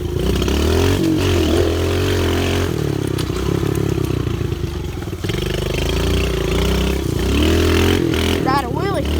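A small pit bike motorcycle on dirt trails and a motocross track, its engine droning steadily and loudly close by with revving surges throughout, ending in a couple of sharp rising-and-falling revs.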